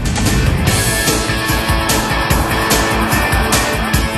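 A Subaru driven hard with sharp handbrake turns, a loud continuous engine roar with rhythmic surges and a brief squeal of tyres, close and filling the whole stretch without speech.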